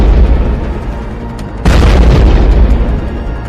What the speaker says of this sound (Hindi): फिर उसके गुंबद के पास होता है एक बड़ा धमाका